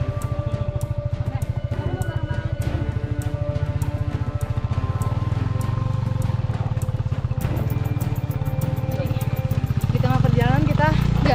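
A motorcycle climbs a steep, slippery rural road to Dusun Buleleni, its engine thumping loudly and continuously up close, revving harder near the end, with a voice talking over it.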